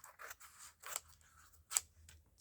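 Scissors snip apart pieces of wet paper for a hinged journaling craft, giving several quiet, sharp cuts spaced irregularly in a hushed room.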